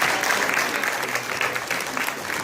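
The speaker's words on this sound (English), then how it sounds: "Let's give him another round of applause." Audience applause at a school assembly, a dense wash of steady clapping from a crowd, moderately loud and continuous with slight swells.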